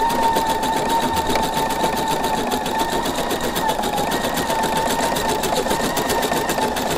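Sewing and embroidery machine couching yarn onto fabric, running as a steady, fast, continuous mechanical whir with a rapid needle rhythm throughout, close and even in level.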